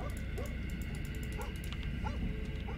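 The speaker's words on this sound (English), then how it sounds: "The neighbor's dog is barking." A neighbour's dog barks and yips in the video game Fears to Fathom, several short muffled woofs rising and falling over a low constant ambient hum, sounding somewhat distant.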